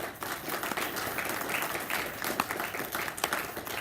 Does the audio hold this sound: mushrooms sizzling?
no